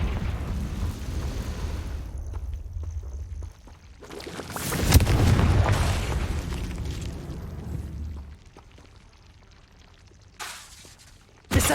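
Confringo blasting spell in Hogwarts Legacy: a crackling, rumbling explosion swells midway and fades into debris and ambience, with a sharp burst at the very end, loud and close.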